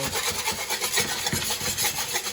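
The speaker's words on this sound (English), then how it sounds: "Use a whisk here. Start deglazing that pan a little bit." A whisk scrapes and rubs across a pan in quick, rhythmic strokes while deglazing after searing cod, a close, soft, dry scratching with no voices.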